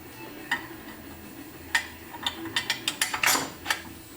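Ratchet clicking as a bolt is tightened during a spring installation on a 1999-2004 Ford Mustang, a few isolated clicks and then a quick run of sharp ratcheting strokes, close and clear with no talk.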